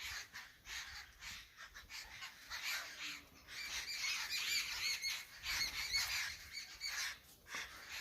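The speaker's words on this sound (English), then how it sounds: "Listen to these birds." Birds call outside a guesthouse door, a faint flock of squawking, honking cries repeating irregularly and overlapping at a distance, with no talking.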